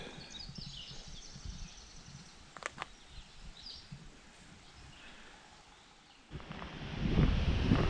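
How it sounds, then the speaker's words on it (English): Wind gusting and buffeting outdoors on a chilly morning at Moses H. Cone Memorial Park, a soft rushing that swells into a louder roar near the end, with faint bird calls. "It's windy over here this morning, kind of chilly."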